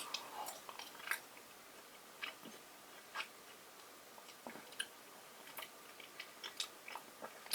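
Gum being chewed close to the mouth makes quiet, irregular wet clicks and soft squishes, with short bursts spread across a near-silent background.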